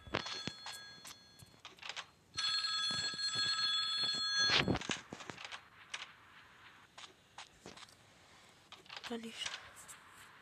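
An electronic telephone ring in a video game sounds for about two seconds amid sparse clicks and faint background noise, with a few other short tones scattered around it.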